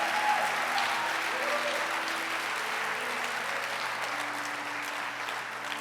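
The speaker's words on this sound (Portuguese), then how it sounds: "Pode aplaudir. Aplaude igual quem tem fé." A church congregation claps in sustained, dense applause that fills the room, slowly easing over a few seconds with faint held tones beneath.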